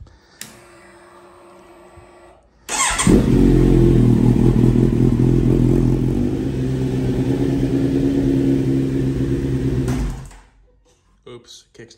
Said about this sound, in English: I'm just gonna fire the bike up and let's see how she goes